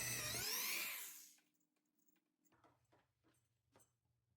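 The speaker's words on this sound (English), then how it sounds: "Then we'll drill out the pilot hole for the screw hook." A power drill bores a pilot hole for a screw hook, a loud, close whirring burst about a second long that winds down, followed by faint scattered handling noises and a low hum.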